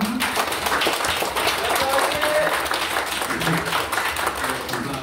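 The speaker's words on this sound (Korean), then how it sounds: "힘찬 박수 부탁드립니다." Audience applause at a Korean mental health policy public hearing, a dense steady wash of clapping across a large room, with a faint voice and some crowd murmur mixed in.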